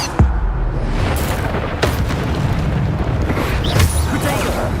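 Spell blasts and explosions from the Hogwarts Legacy video game boom in rapid succession, loud and close, with heavy low rumbles and sharp impacts under ongoing combat noise.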